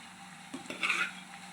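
Marinated mutton coated with salt, chilli and turmeric goes into a hot pan for curry, giving a brief soft clatter and then a short burst of sizzling frying over a faint background, with no talk.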